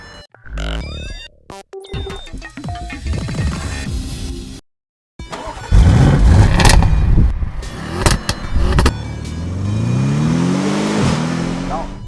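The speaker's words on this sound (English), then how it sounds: "That's the new Audi RS6 that we have with us today" A new Audi RS6 Avant estate car's engine revs in loud bursts, broken by abrupt cuts and a brief silence, then roars and climbs through gears with rising and falling pitch, mixed with other edited sounds and some talk.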